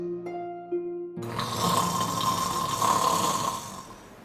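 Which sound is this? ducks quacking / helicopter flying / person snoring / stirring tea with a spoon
person snoring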